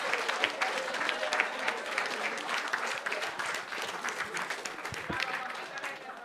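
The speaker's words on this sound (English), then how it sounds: "Please give them a round of applause." An audience at an interview workshop presentation breaks into applause, a dense, fairly quiet wash of many hands clapping together without pause, heard from some distance in a room.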